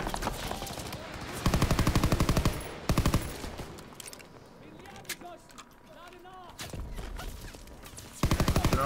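Bursts of rapid gunfire from Call of Duty WWII fighting at a beach, with volleys at the start and end and scattered shots between, close and loud over battle noise and voices.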